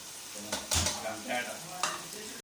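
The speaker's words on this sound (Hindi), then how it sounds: "और फिर हम जो अपने स्पाइसी मसाले हैं इनको भी डालते हैं और डाल के भूनते हैं" Spice paste of tomato, chilli, garlic and ginger fries in a pot for mutton yakhni pulao, with a soft sizzle broken by several scraping stirs of a spoon.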